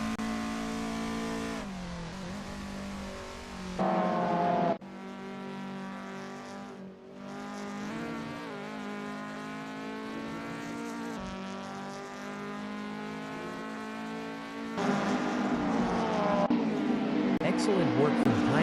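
Race car engines in a sim racing Golf Cup event roar and rev with shifting pitch, surging louder near the end, with commentary talk over them.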